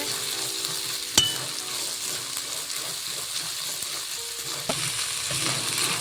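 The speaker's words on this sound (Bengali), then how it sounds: "মশলা কষানি হয়ে গেছে" Spice masala sizzles and fries steadily in oil in a pan, a close continuous crackle with a couple of sharp clinks of a utensil stirring against the metal, no voices.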